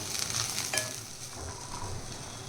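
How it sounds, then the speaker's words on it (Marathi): Grated coconut is stirred and fried in a pan for a cashew nut curry, a soft continuous sizzle with scraping spoon strokes and a brief metallic clink, close and unaccompanied by speech. "आता आपण ह्याच्यामध्ये जे खोबरं होतं ते टाकून घेऊया ते पण इथे छान असं मिक्स करून घ्यायचं आपल्याला"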